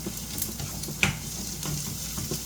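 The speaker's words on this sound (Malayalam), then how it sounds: "അപ്പോൾ ഉള്ളി മൊരിഞ്ഞ് വരട്ടെ" Onions fry in a clay pot for a Kerala-style lunch, giving a soft, continuous sizzle with faint crackles and a light stirring tap.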